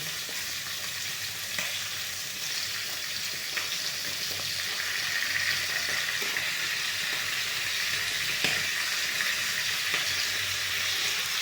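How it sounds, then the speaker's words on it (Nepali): Chicken fries with masala and onion in a pan, a continuous, close sizzle with occasional stirring scrapes and spatters, steady throughout with no talking. "अलिक भुजेर रातो गर्नुपर्छ मसलालाई"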